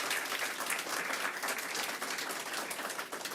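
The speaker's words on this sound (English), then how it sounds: "So another round of applause for all of our healthcare workers here and across the state." An audience at a governor's press event gives healthcare workers a round of applause, dense continuous clapping from a crowd for the full stretch.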